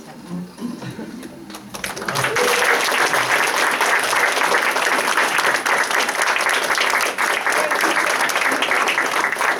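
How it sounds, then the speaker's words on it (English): A graduation convocation audience applauds faculty members at a university honors ceremony, starting after about two seconds of quiet room noise and swelling into dense, sustained clapping that fills the hall. "everybody else can applaud you"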